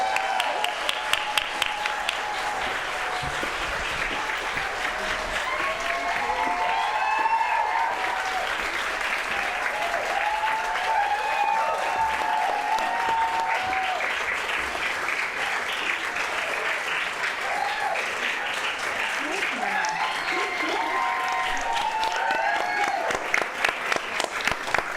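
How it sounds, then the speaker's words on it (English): An audience at a literary event for a novelist's book launch breaks into a long, sustained round of applause, dense and even throughout, with a few whoops rising over the clapping and it thinning briefly at the very end. "please give her a huge round of applause"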